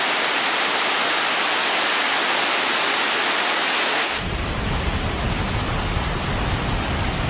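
Heavy water rushes at the Debakunda waterfall site in Odisha, a loud, steady broadband roar that deepens partway through and carries on without a break. No voices are heard.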